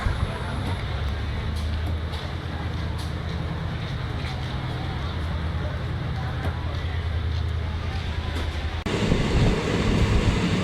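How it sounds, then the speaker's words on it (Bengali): A passenger train rolls steadily out of Silapathar station in Upper Assam, a continuous close rumble of wheels and carriages with a brief louder swell near the end. "শিলাপাথার থেকে ছেড়ে দিল ট্রেন"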